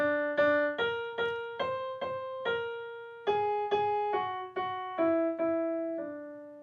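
Twinkle Twinkle Little Star played on piano in the whole tone scale, single notes struck one by one with slight harmony, sounding odd and unresolved.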